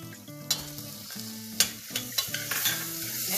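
Onions frying with freshly added tomatoes are stirred in a pan for a spinach daal, giving a steady close sizzle with sharp spoon scrapes and clinks recurring irregularly, with no talking.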